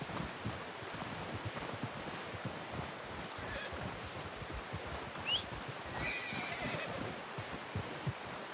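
A horse whinnies in Red Dead Redemption 2, a brief high call rising over steady outdoor wind and surf-like noise, with soft low rumbling throughout.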